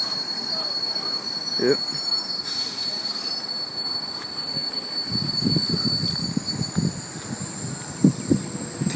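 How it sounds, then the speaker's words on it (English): Sydney Trains sets T90 and T96 depart platform 1 at Seven Hills station with a piercing, sustained wheel squeal and a rising rumble of cars rolling past. Clunks from the passing wagons are close and loud, and one brief spoken word cuts in. "T90 and T96 now departing platform number 1"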